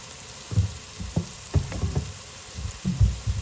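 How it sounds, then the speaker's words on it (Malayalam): Something sautéed with salt in a pan for a mutton dish, made as a pair with puttu: soft, irregular sizzling and stirring scrapes with light knocks of a utensil, close and fairly quiet. "ഇത് വഴറ്റിയെടുക്കുക"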